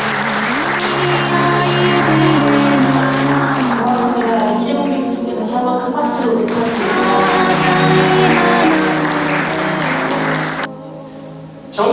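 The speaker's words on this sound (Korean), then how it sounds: "다시 한번 큰 박수" Audience applause closes a symposium as a big round of clapping rises for a professor. The sustained, loud clapping carries a voice over it and cuts off near the end.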